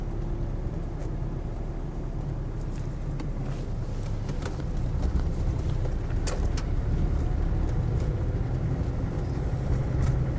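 A Land Rover Defender 90 with a 300TDi diesel engine labors up a steep hill, a low rumbling drone that grows slightly louder and heavier over time, heard from inside without talk.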